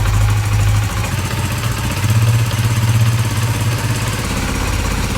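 Motorcycle engine idling during warm-up with the mixture raised, a steady, close, loud mechanical chug with a slight rise and fall in revs and no talk.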